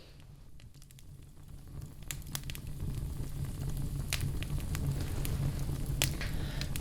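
Crackling campfire lit from below with birch bark or fire starters as kindling, sharp irregular pops and snaps over a steady hissing bed that grows a little louder as the fire takes hold, close by.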